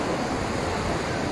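Rough evening sea surges on the shore, a steady loud roar of breaking water and wind noise filling the whole moment with no talk.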